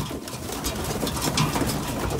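Young racing pigeons cooing in a loft, a close, continuous chorus of low throaty coos and soft rumbling calls overlapping from several birds at once.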